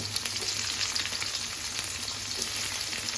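Chopped onions sizzle steadily in hot oil in a pan while khichuri is being cooked at home, a continuous close frying hiss with faint crackles and no one speaking.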